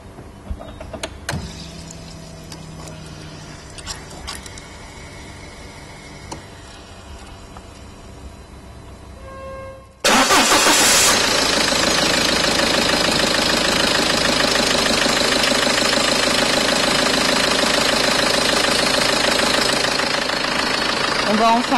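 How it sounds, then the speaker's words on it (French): A Peugeot 206 HDi diesel engine cranks and catches after a quiet stretch with faint clicks, then settles into a loud, steady, clattering idle close by, after its fuel filter is changed. "nous allons mettre le contact pendant 10 à 20 secondes afin d'éliminer toute l'air présent dans le circuit à gasoil, puis démarrer enfin le véhicule."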